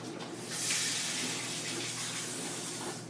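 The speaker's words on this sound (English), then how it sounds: "We just put a little bit of water into that pan to bring that temperature down." Water is poured into a hot pan used for making tuna melts, giving a steady, soft rushing gush that holds for a few seconds at low level.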